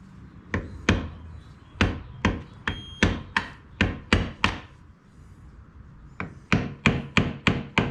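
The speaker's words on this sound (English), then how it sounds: "So I gave her a couple little whacks." A stuck front axle part on a Kioti CK3510 HST tractor takes a rapid series of about fifteen sharp metallic hammer blows, struck close and loud in uneven clusters with a brief pause partway through.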